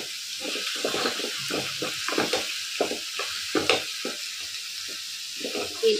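Dry spices and salt fry in a pan under a steady soft hiss, broken by repeated scraping strokes of a spatula stirring them, close and continuous.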